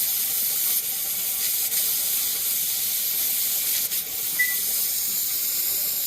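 Steam hisses steadily from an All American pressure canner loaded with Swiss chard, a continuous high, airy rush at moderate level, with a few faint clicks and knocks breaking through now and then.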